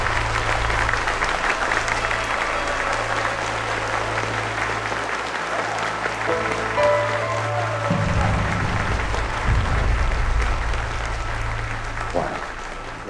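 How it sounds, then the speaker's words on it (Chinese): Guests at a wedding ceremony break into applause after the couple's bows, a sustained crowd clapping layered over background music and voices in the hall. "掌声鼓励"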